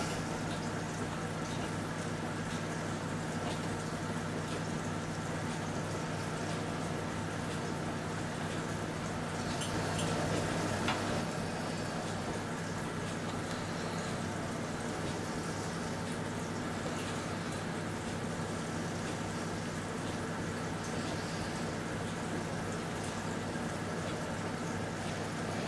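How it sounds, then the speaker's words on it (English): Potatoes boiling in a pot on a stove, a steady bubbling and simmering hiss that runs evenly throughout with a brief louder burst near the middle. "the potatoes are boiling away nicely"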